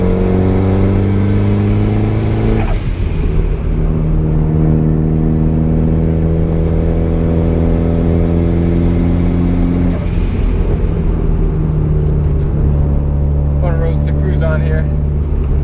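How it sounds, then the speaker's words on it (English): Turbocharged Honda Accord with an F22B1 VTEC engine accelerating hard up a hill, heard from inside as a steady loud engine drone that climbs in pitch through two gear pulls, with a voice talking over it. "Gotta kick her down here to climb this hill,"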